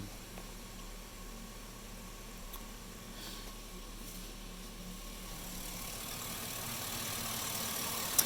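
A 5.3-litre V8 in a 1999–2007 Chevrolet Silverado pickup idling with a lean-code fault: a low, steady engine hum with faint hiss, holding even and gradually swelling slightly louder toward the end.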